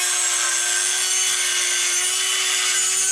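Dremel rotary tool cutting the tabs off the back of a headlight bucket on a 1993-97 Firebird, a steady high whining grind with a constant tone throughout, close and unbroken.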